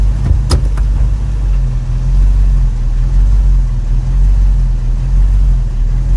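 A 1989 Chevrolet S10 pickup with a V8 engine idles in gear, a loud, close, steady low rumble with a slight surging rise and fall, and a brief click near the start.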